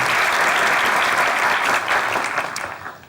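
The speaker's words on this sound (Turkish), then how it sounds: "Özellikle yurt dörtlüsüne bir alkış." A crowd applauding loudly and densely, a full wash of clapping that holds steady and then tapers off near the end.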